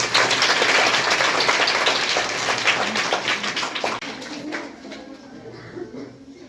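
A school audience at a Savitribai Phule birth anniversary event in Kasipet mandal claps for a girl named Harshitha, a dense burst of applause with some voices that thins and fades after a few seconds.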